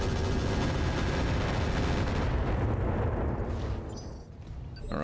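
Missiles launching and detonating in a combat video game, a dense, loud rumble of overlapping blasts and booms that rolls continuously before tapering off, with no voices over it.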